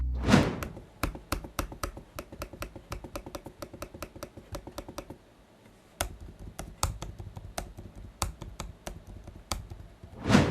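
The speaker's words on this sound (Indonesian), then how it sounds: "berikut ini adalah contoh suara feedback dari touchpad-nya" A Lenovo ThinkPad X270 touchpad is pressed repeatedly, giving rapid, crisp mechanical clicks in quick succession, close and fairly loud, with a brief quiet pause midway before the clicking resumes.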